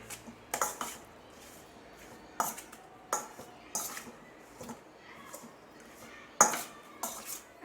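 Raw chicken is mixed with salt and pepper in a kitchen bowl, with a utensil clinking against the dish in scattered, sharp knocks and scrapes between quiet stretches.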